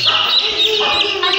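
Many young chicks chirp continuously in a dense, high-pitched chorus among feeding hens, steady and close throughout with no pause.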